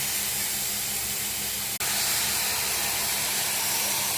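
Mushrooms hit a hot pan of masala with ginger-garlic paste, dried red chilies and curry leaves, and a loud, steady, close sizzling hiss follows with one brief break, no talk over it.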